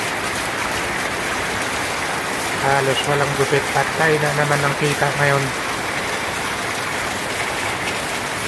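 Heavy rain falls in a constant dense hiss throughout, while someone speaks briefly over it in the middle.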